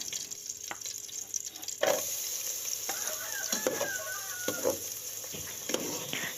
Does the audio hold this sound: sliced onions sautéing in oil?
yes